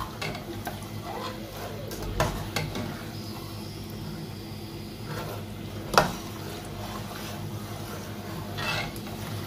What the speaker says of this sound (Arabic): سخنات ليا الزيت. ملي كنبقى نحرك نشوف هاد اللوزات